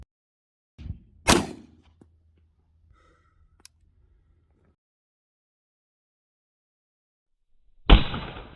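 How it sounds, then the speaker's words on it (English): A single sharp gunshot cracks loudly while bullets are tested at a shooting range, preceded by a soft thump and followed by quiet stretches, a small click, and a burst of noise near the end. "We're going to start shooting and see how all this goes."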